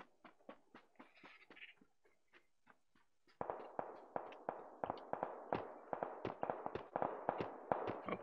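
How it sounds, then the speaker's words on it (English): Gunfire in the shooter game PUBG, a string of sharp distant shots, sparse and faint at first, then a quicker, louder run of cracks with no talk over them. "Oh, gunfire."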